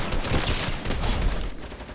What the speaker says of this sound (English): Putting down support fire